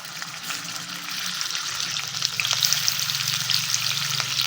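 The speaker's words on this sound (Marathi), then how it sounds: "आता हे छान असं आपण थोडंसं फ्राय करून घेऊ।" Finely chopped garlic, ginger and a bay leaf fry in a pan for a chicken sukka masala, giving a bright, steady sizzle that grows a little louder and busier toward the end, close and without talk.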